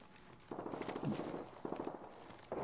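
Rapid automatic gunfire from a weapon in the video game Apex Legends, three quick bursts of rattling shots in succession, moderately loud within the game mix.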